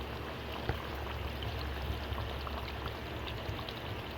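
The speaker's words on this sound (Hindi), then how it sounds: "अब हम इसमें पानी ऐड करेंगे" Water is poured into a cooking pot of meat qorma after the browning, producing a steady, continuous rushing splash that stays even and soft for several seconds.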